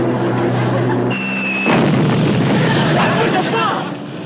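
Staged battle explosions from firecrackers stuck in the ground burst in a rough, booming cluster, one sharp blast followed by rumbling pops that fade out.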